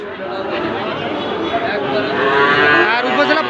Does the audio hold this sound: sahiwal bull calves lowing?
yes